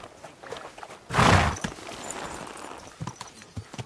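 A horse's hooves clop on the ground in Kingdom Come Deliverance 2, a few soft steps with one louder thudding burst, heard close against quiet ambient background.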